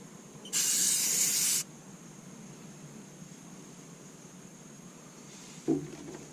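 Rust sealant sprayed from an aerosol onto a 2012 Ram 1500 pickup truck: one steady, close hiss lasting about a second, then a quiet room and a short knock near the end.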